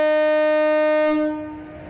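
A train on the Qinghai-Tibet high-altitude railway gives a loud, sustained horn-like tone with steady harmonics, fading after about a second and a half into a softer rumble of the moving train.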